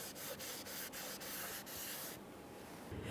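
Steady rubbing and wiping strokes, a rag worked back and forth over the top of a Ford Fusion 2.0L four-cylinder engine in a regular rhythm, close and fairly quiet.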